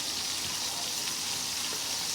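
Food searing in a hot pan to build a crust, giving a steady, loud, close sizzle of frying that runs without a break and with no talk over it.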